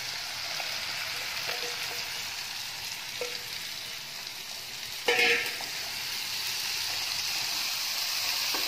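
Chopped onions frying in a pan over a low flame, a steady close sizzle with a few brief stirring clatters and one louder scrape partway through.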